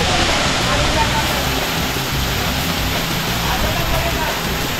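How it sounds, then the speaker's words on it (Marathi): Waterfall near Waghbil cave in Badlapur, a loud, constant roar of falling water heard close up, with a person talking over it. "धबधबा आहे हा,"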